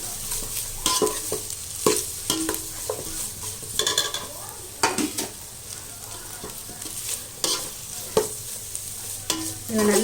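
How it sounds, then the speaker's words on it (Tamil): Ginger and garlic sauté in a pan for vegetable biryani with a loud, continuous sizzle close by, punctuated by frequent scraping stirs and ladle knocks against the metal, and no one speaks. "இப்போ இதில் இஞ்சி பூண்டு போட்டு நல்லா இதில் வதக்கிக்கலாம்."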